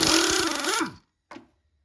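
A breaker bar or wrench loosening the crank pulley bolt on an Acura MDX engine during a timing belt job in a garage, heard as a loud, close grinding metallic strain for about a second, then a brief knock after a pause.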